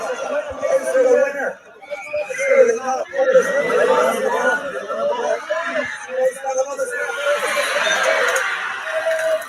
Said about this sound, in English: Do you hear how nuts the crowd are going?